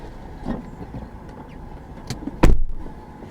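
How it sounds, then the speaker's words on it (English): A car door slams shut once, loud and close, inside a rideshare vehicle, preceded by faint shuffling and softer thumps. "Close the door."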